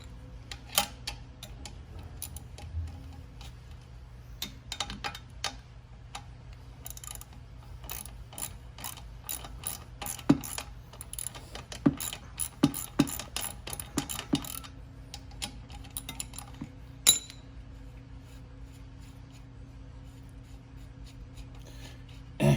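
A hand ratchet clicks in irregular bursts while muffler bolts are loosened on a Venom x22GT 250cc motorcycle, with sharp close metallic ticks and short pauses over a low steady hum, and no one speaking.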